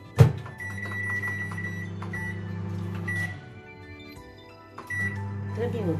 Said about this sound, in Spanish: Y las vamos a poner a máxima potencia en el microondas